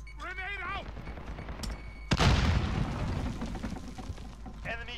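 Grenade blast in Modern Warfare, Hardcore Demolition mode: a loud, close boom with a long rumbling tail, preceded by brief voice calls and gunfire chatter, then more voices as it fades.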